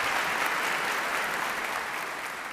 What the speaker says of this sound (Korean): 참 젊은 사람에게 정말 박수를 주고 싶었어요